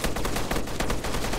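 Rapid gunfire in the ARMA 3 video game, sustained loud bursts of shots running continuously with no pauses.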